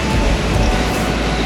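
A New York City subway train bound for Brooklyn roars steadily at close range, a dense, loud rumble of wheels and car noise filling the whole moment without pause.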